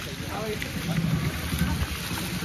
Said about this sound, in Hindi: हवा काफ़ी तेज चल रहा है यहाँ पर